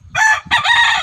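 A farmyard rooster crows twice in loud, close bursts, with low clucking and rustling underneath.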